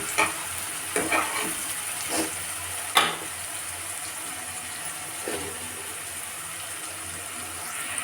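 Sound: onions frying in a pan for chicken curry

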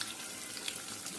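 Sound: chicken and onions frying in oil in a pan

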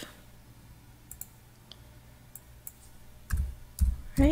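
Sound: computer mouse clicking

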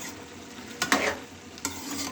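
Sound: stirring simmering potato, carrot and pea curry in a pot

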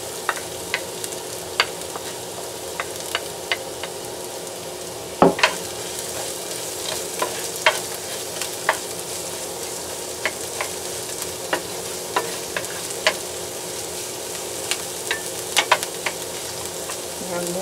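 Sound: garlic and onion sautéing in a pan

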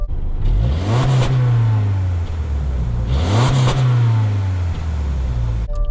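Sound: Subaru Forester engine starting and revving

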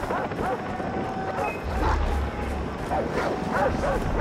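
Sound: dog barking in Far Cry 3 video game

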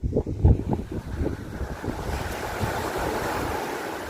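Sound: sea waves on Tyrrhenian Sea shore

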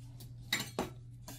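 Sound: fork pressed around edges of cookie dough

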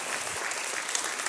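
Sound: congregation applauding and clapping

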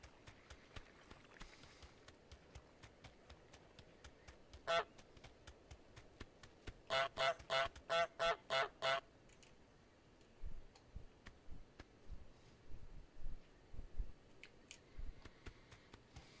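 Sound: goose honking in Untitled Goose Game video game

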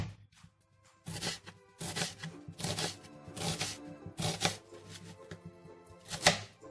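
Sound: knife finely chopping onion

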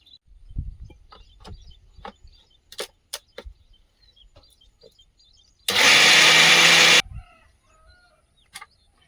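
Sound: electric grinder machine grinding spice paste with water

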